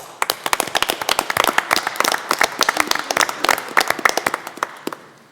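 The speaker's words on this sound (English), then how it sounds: "We can give them a round of applause." Applause at a county commissioners court meeting, a smaller group clapping with distinct, sharp individual claps close by, building into a brisk flurry and then thinning out toward the end.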